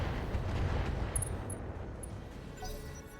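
Long Tom artillery in the RogueTech game fires and explodes as a dense, loud rumbling blast with crackling debris, sustained for a few seconds without speech.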